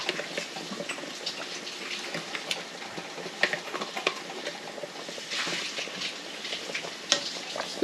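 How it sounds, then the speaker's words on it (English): Bone broth with chicken boils vigorously in a pot, giving a steady bubbling, crackling hiss with small pops, fairly faint and continuous, with no voices. "still boiling like crazy."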